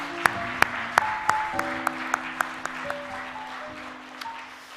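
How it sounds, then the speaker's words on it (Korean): Applause during a Korean church early-morning worship service, a soft crowd clapping with sharp individual claps standing out over a sustained tone, with no talking. "하나님께 영광의 박수 한번 돌립시다"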